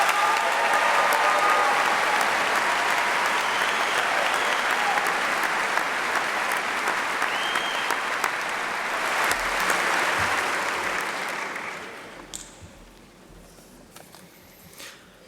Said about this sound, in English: let's first honor through a round of applause these students who stand before us